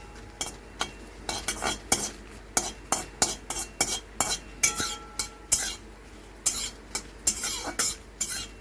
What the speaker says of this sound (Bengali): কড়া বসিয়ে নিলাম, তাতে শুকনো লঙ্কা, ভাজা মশলাটা আগে বানিয়ে নিচ্ছি